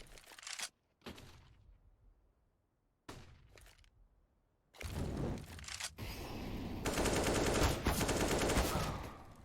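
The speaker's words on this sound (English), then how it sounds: "In go a barrage of bullets." A barrage of gunfire in the shooter CS:GO during an ESEA MDL Europe match, sharp bursts of rapid shots with brief gaps at first, then a sustained loud volley of automatic fire.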